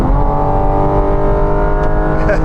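A Porsche 911 GT4 RS roars around a race circuit, its engine a loud, close, sustained drone with a slight rise in pitch toward the end.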